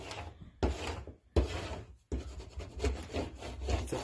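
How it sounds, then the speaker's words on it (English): A scraper tool is pressed and rubbed across craft material to flatten it, giving three close, steady scraping strokes with brief pauses between them and no talking. "I'm going to use my scraper tool, just going to make sure it gets pressed on"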